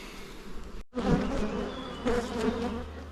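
Honeybees at a hive set on flowering rapeseed make a steady, close buzzing drone. It swells briefly as individual bees pass near, with a short dropout partway through.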